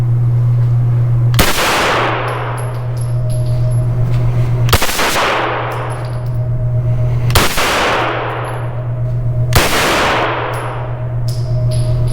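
A Henry Homesteader 9mm carbine fires four loud, sharp shots spaced a few seconds apart. Each report rings out briefly over a steady low background hum.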